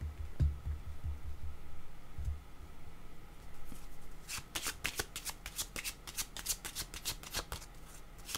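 Tarot cards being shuffled close up, a few soft taps and handling noises first, then a rapid series of crisp riffling flutters and snaps.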